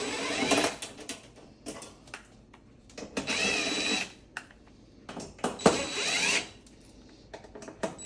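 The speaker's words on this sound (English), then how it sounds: "we'll start by taking out these 5 screws, Phillips head screws with our trusty DeWalt" A DeWalt power driver backs Phillips head screws out of a Samsung stove, giving several short whirring bursts separated by pauses and light handling clicks, close by with no talk.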